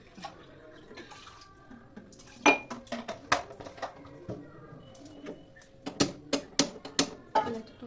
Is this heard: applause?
no